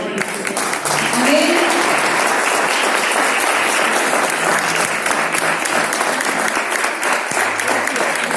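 A congregation at a church women's meeting breaks into loud, sustained clapping that fills the room and carries on steadily throughout, with faint voices underneath.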